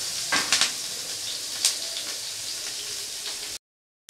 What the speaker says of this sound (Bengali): তেলটা গরম হয়ে গেছে। এখন পেঁয়াজ আর লঙ্কাটাকে দিয়ে দেবো।